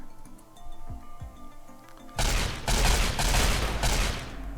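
Colonists in the Rimworld video game open fire with rifles, including Crucible rifles, a dense burst of game gunfire erupting after a quiet stretch and rolling on for a couple of seconds, loud and close.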